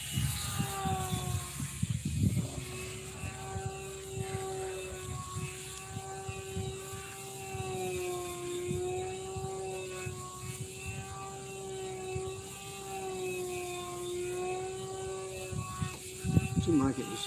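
A control line stunt model airplane flies in calm air at an F2B contest, its small engine holding a steady, high-pitched buzzing drone throughout while people talk nearby.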